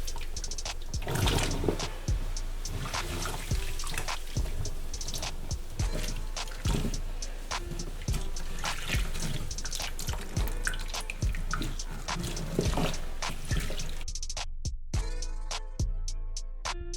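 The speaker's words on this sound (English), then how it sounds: "get your boiling water and dunk the hair in." Box braids dunked into a pot of boiling water give a continuous splashing, sloshing wash of water that stays loud and busy throughout, with a few sharper drips and taps near the end.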